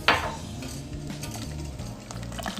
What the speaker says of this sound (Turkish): Şimdi arpa şehriyelerimi koyuyorum.